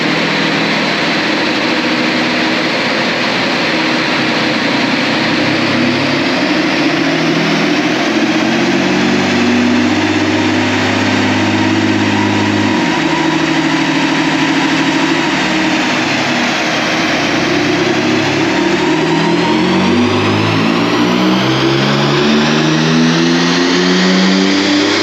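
A remapped Peugeot 407 Coupe 3.0 HDi diesel engine revs hard on its first run. It is loud and sustained, sweeping up and down in pitch with repeated rises and falls, and no one speaks.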